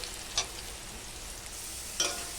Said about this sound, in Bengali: তাই আমি একটু নুন একটু হলুদ দিয়ে ভেজে নিই